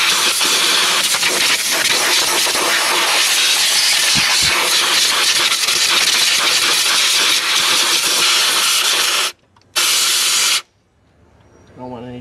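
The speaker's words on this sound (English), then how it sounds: "we're going to go ahead and blow everything off." Compressed air blasts dirt off an LML Duramax diesel engine in a loud, continuous hissing rush that cuts out briefly, resumes, then stops abruptly.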